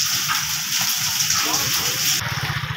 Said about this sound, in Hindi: अल्लाह माफ़ करे, बारिश के साथ गड़े पड़ने शुरू हो गए हैं